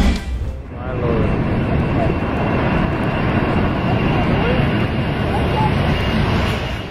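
A heavy Boeing 747-400 jumbo jet passes low over Maho Beach, a loud continuous engine roar and rushing air that stays strong throughout, with no talking.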